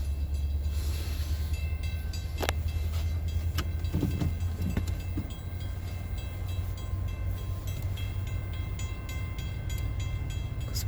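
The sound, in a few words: approaching Metro train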